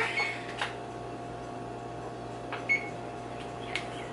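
A kitchen timer is set during keto meal prep, giving a few short, faint electronic beeps spaced seconds apart over a low steady hum.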